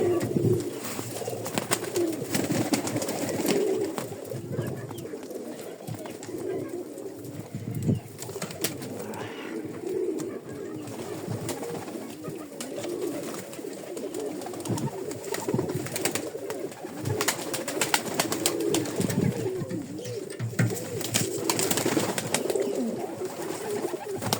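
Pigeons coo steadily in repeated low, throaty phrases close by, with a constant rustling background.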